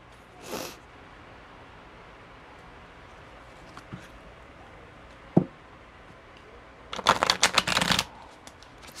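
A burst of rapid, papery riffling near the end, like a fairly new deck of tarot cards being shuffled, preceded by a few soft isolated taps and rustles.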